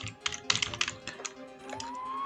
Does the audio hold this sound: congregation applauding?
no